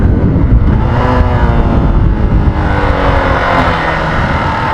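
A motorcycle engine braking in first gear after a downshift, with no front or rear brake applied: a loud, steady engine drone with low rumbling harmonics that slowly fall in pitch as the revs drop, continuous and close for the whole stretch.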